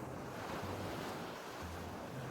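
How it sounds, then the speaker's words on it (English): Ocean waves in the video game Dream Daddy wash in a soft, continuous surf with gentle swells and a breezy hiss, heard quietly and alone. "And there's the sounds of water."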